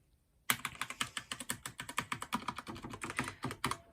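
Keys clatter steadily on a budget computer keyboard after a short silence, a quick run of sharp, evenly spaced clicks typed close to the microphone, with no talking.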